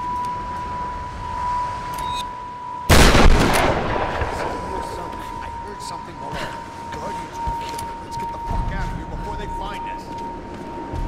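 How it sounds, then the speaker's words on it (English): A shotgun fires once in the Tomb Raider video game, a sudden loud blast whose echo tails off into a steady tone and ambient game noise, with a voice speaking intermittently. "I hope this thing still works. I got a shotgun."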